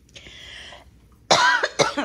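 A couple of sharp, close coughs burst out after a brief, quieter sound, with a short pause between them.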